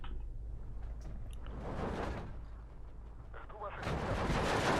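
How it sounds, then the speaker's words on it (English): A mortar strike in the WW2 strategy game Steel Division 2 lands as a series of rumbling explosions and crackling blasts of mixed loudness, building toward a louder burst at the end. "Oh, this is going to be a lovely mortar strike."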